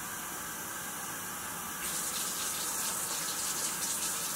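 Water poured into Guyanese bara batter, a soft steady gushing stream that starts partway through and continues close by, quiet and without talk.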